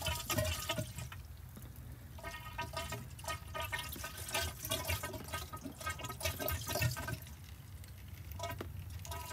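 Water trickles and splashes steadily down a drain pipe in a converted bus bathroom, with a hollow, echoing quality; no voices.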